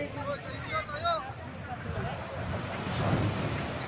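Ocean waves wash onto a beach at high tide in a steady, broad roar with wind buffeting the microphone, while voices and birdlike calls sound over the surf early on.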